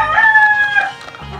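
A young gamefowl stag crows once, loud and close, a short strained call that rises and trails off within about a second.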